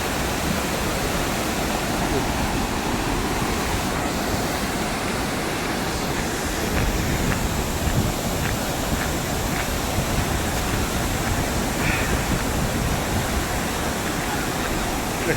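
Steady broadband rush of the Rangbang Khola mountain river in Darjeeling, a continuous roar of flowing water that stays close and even throughout with no voices over it.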